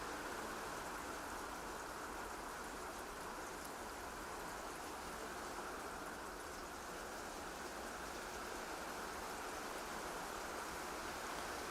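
Steady rain falling outside, a constant dense hiss that stays even and fairly faint throughout with no voices.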